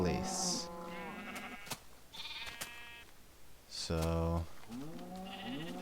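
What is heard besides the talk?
baby sheep bleating in Minecraft video game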